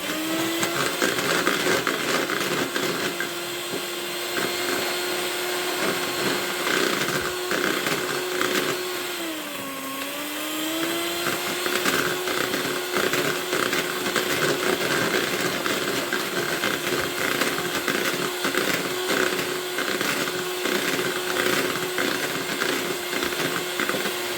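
An electric mixer beats honey cake batter at high speed, a steady whirring motor drone running continuously with a brief dip in pitch midway, loud and close throughout.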